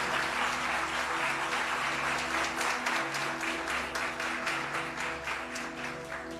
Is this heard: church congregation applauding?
yes